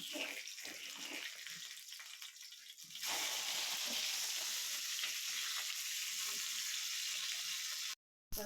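Crispy masala fish fries in a pan of hot oil. A softer bubbling opens into a loud, dense, continuous sizzle that holds to the end, broken by a brief dropout near the close.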